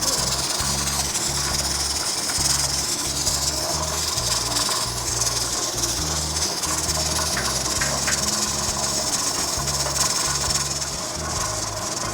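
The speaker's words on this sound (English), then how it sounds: "wait for this vent pipe to be streaming steam non-stop for 10 minutes" A pressure canner's vent pipe streams steam in a steady, loud, continuous hiss, with a low rhythmic rumble underneath and no speech.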